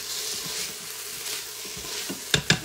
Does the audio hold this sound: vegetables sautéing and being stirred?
yes